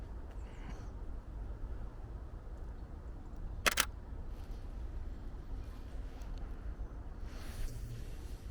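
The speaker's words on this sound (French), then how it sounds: "Hop, petite photo," A camera shutter fires once, a sharp close click standing out from steady outdoor rumble on a frosty morning at the edge of a forest, with no talking.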